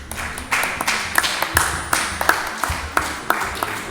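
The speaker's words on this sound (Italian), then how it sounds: "l'applauso è misero infatti" Thin, sparse applause from a lecture audience, a handful of scattered claps with uneven rhythm, moderately close and fairly quiet, fading after a few seconds.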